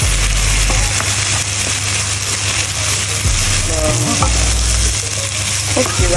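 Rice and vegetables fry and sizzle steadily in a hot pan, with the scrape and clink of stirring breaking in now and then over a constant loud crackle.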